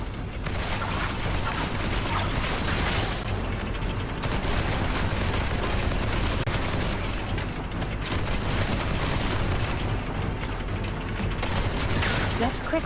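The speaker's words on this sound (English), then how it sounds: "let's move the cannon to an optimal spot to bombard the central control room" Sustained barrage of heavy booms and bursting gunfire from a cannon bombarding a central control room in the game Duet Night Abyss, dense and loud throughout with a constant low rumble.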